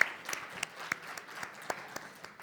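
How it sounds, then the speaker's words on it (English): A small live-event audience claps in a sparse, uneven round, with individual sharp claps standing out over a soft background patter. "let's just have another round of applause for Cindy"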